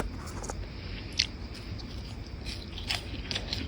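Someone eating Homerun Ball cream puff snacks with milk early in the morning, a few sharp close crunching bites with soft chewing in between over a quiet room hum.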